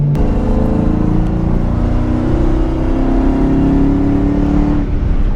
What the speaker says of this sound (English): as I was accelerating, you can possibly hear the scraping a little bit